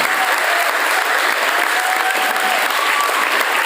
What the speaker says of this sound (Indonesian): Boleh tepuk tangan buat mereka berdua